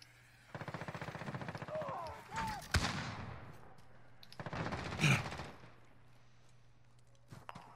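Rapid bursts of automatic gunfire in Modern Warfare, two separate strings of shots with a sharp louder crack between them and quieter game ambience in the gaps.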